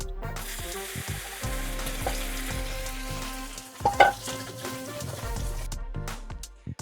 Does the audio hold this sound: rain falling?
no